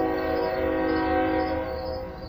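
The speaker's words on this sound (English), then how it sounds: "It's a train." A passing train sounding a sustained, loud horn chord that holds steadily for a couple of seconds before fading slightly, with no talking over it.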